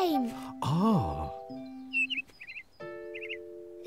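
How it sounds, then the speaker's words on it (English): A cartoon bird in a countryside scene gives a few quick high chirps between stretches of cartoon voices and tones, the calls brief and clear but short. "That sounds like a bird."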